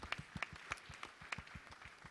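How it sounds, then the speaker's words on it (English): An audience at a Nairobi innovation tech week event claps for newly seated guests: faint, fairly sparse hand claps in an uneven rhythm, heard from a distance. "Clap for the young ladies who are joining us."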